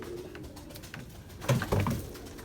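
Pigeons coo softly at a loft in Izmir in the evening, low murmuring calls rising into a couple of louder, closer coos near the end over faint background hum.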